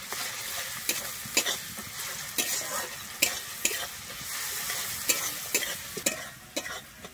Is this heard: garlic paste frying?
yes